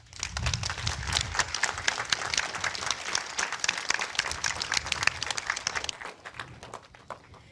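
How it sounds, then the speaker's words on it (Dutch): An audience at a village event in Bantega breaks into applause, brisk dense clapping close and fairly loud for several seconds before it thins out and stops near the end. "dat verdient eigenlijk wel een heel groot applaus"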